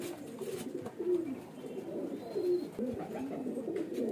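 Deep, gurgling coos from a big pigeon rise and fall in short swells, fairly close and moderately loud above a faint hiss, with no voices present.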